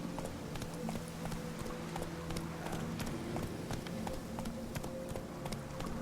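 Roach the horse galloping in the video game The Witcher 3, steady rhythmic hoofbeats clip-clopping continuously at a moderate, even pace, fairly quiet and uninterrupted.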